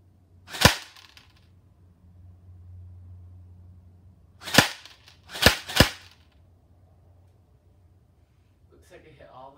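A plastic AEG airsoft gun fires four sharp, close snapping shots: one single shot, then a pause and a quick burst of three, with a faint hum between them.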